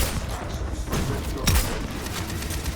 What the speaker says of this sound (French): feu nourri, tourelle